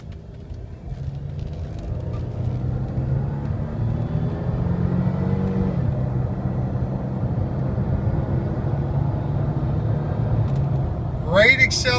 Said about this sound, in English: give it some gas, show you how it runs and drives.